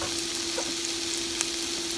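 Vegetables seasoned with salt and pepper sauté in a hot pan, producing a constant close hiss and sizzle with a few faint crackles over the short stretch, no talking.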